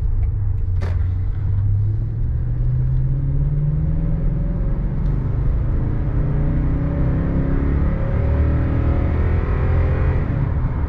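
A 2014 Toyota Tundra's 5.7-liter V8 drives along with a steady, loud low rumble and road noise throughout, the engine pitch rising gradually as it pulls.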